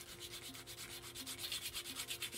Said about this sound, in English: I'm going to sand down this area, and that will hopefully make it not so glossy